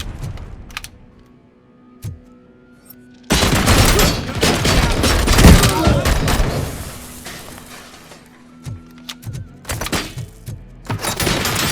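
Dense, loud gunfire erupts in a firefight in RoboCop: Rogue City, a rapid sustained volley that fades into scattered heavy shots and thuds after a quieter opening.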